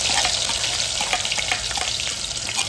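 Ground masala paste sautéing in hot oil for a Maharashtrian chicken rassa, giving a steady, close, dense sizzle with faint stirring scrapes and no talk.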